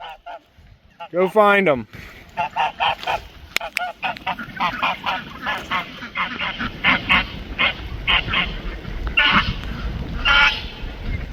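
A homestead flock of five pet ducks and Dabbles quacks and honks in repeated bursts, some close and loud, others overlapping in a busy chorus, with a person speaking briefly near the start.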